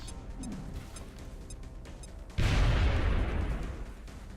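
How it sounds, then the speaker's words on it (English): A grenade explodes in the video game Long War: a sudden loud blast roars in midway and decays over about two seconds, after softer ticking and game sounds. "Maybe we'll get a grenade on that wall."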